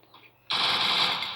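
Gunfire in a PUBG or Free Fire video game, a sudden loud burst of rapid shots that follows a quiet moment and holds steady to the end.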